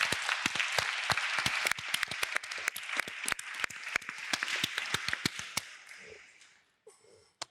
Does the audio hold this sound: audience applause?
yes